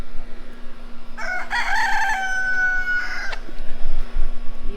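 A rooster crows in a home vegetable garden in Laurens, South Carolina, one long drawn-out call lasting about two seconds, fairly close and clear over a steady low background hum.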